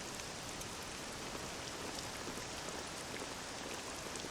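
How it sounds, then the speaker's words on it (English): Steady, dense rainfall in Dragon Quest VII Reimagined on PS5, an even hiss of drops on surfaces that holds at the same moderate level throughout, with no voices. "This accursed rain will chill ye to the bone."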